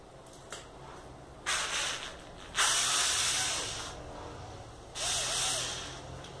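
A Phillips screwdriver works loose a screw on a bicycle's rear derailleur hanger, giving short ratcheting, scraping bursts separated by pauses, fairly close and with no talk over it.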